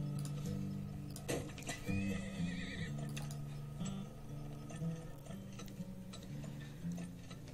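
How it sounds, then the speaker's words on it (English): Horses neighing in the desert-themed video game Turmoil: a few whinnies mixed with mechanical ratcheting clicks and a steady musical drone. "More horses, more."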